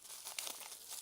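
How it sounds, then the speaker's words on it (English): Scissors snipping and tearing open a postal parcel, a brief, faint crinkling and cutting of packaging material, close up and with no talking. "I'm just going to carry on using my scissors."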